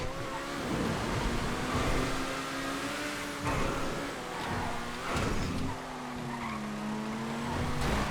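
A Turismo LM supercar in a GTA racing session, its engine droning and shifting pitch as it accelerates, with brief tire squeals through corners, loud and continuous throughout.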